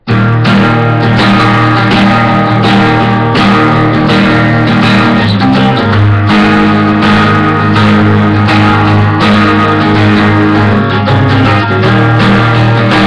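An acoustic guitar plays the intro of a song, tuned a half step down, with steady strummed chords ringing out loud and close, alone with no voice.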